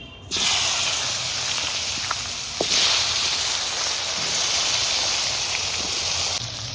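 Boal river fish and potatoes frying in hot oil make a loud, dense hissing sizzle that starts abruptly and holds steady, with a few small pops, and no talk.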